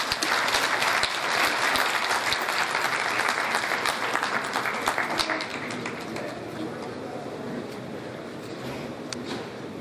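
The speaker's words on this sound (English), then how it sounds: "Shall we give another round of applause to His Excellency?" Sustained applause from a large audience at a 2018 graduation ceremony, dense and steady clapping that fills the scene and gradually thins toward the end.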